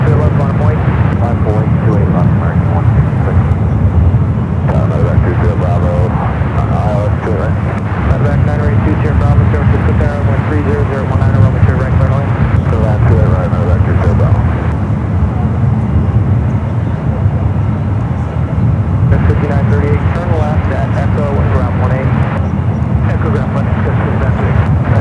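United Boeing 777-300ER waiting for takeoff at San Francisco airport, a loud, steady jet engine roar and rumble filling the whole stretch, with people talking over it.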